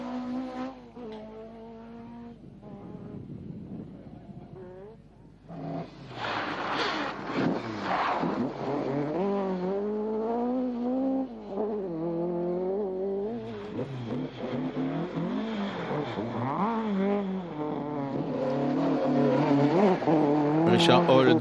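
A Ford Escort MK1 rally car races on a 2008 Irish rally stage, its engine revving and rising through gears with tyre noise, under continuous commentary.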